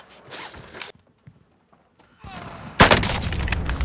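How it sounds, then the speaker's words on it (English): Gunfire in Call of Duty Warzone on PC erupts after a quiet stretch as a dense, loud burst of shots and impacts, preceded by faint rustling and a brief sharp crack. "I'm taking fire."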